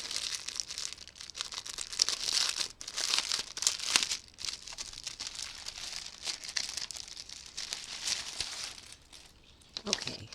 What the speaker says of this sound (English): let's check it out and get it out of this plastic